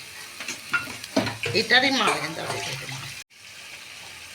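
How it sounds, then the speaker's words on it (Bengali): Water poured into a pot of frying chicken tehari, a rushing splash over the sizzle that swells briefly and then cuts off, heard close, with a short spoken word mixed in. "এবার আমি জল ঢেলে দেবো।"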